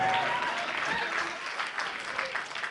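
Applause from the audience at a mushaira poetry gathering, a broad steady wash of many hands clapping at moderate distance, sustained throughout with faint voices mixed in.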